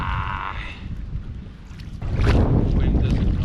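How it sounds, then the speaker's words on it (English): Strong wind buffets the microphone on a lake while canoeing, a rough low rumble that grows louder and gustier toward the end, with water splashing mixed in. "The wind doesn't know what it wants to do at this part of the lake."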